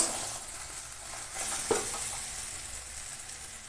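Sugar is stirred into soft cooked greens with prawns in a frying pan: a quiet, continuous sizzle with brief scraping stirs and one sharper clink near the middle, no voices.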